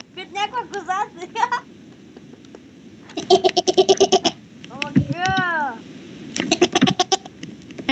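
Goat bleating in a video game, several wavering bleats among bursts of excited chatter and laughter from players talking over it.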